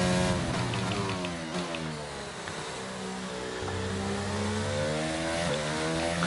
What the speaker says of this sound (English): The sound of the car is so different.